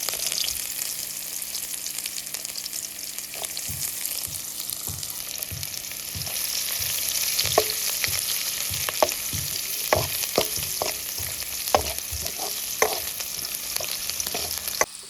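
Onion and green chillies fry in a pan with a continuous close sizzle, while a spoon taps and scrapes the pan in a loose, repeated rhythm.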